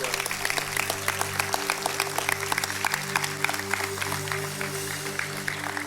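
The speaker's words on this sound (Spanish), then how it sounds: "da el más fuerte aplauso del día" A church congregation bursts into sustained applause, dense overlapping claps filling the room with a steady hum of crowd noise and faint voices beneath.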